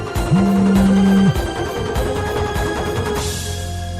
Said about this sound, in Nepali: कसको फोन आइरहेको जस्तो लाग्यो